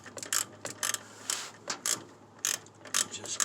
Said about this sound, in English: Just get that first one tightened down.